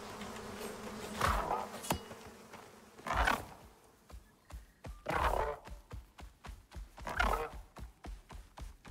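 Bees drone in a game world while hunting for queen bees in Icarus, with several loud, swelling buzz passes coming and going close by amid small clicks and taps, no talk.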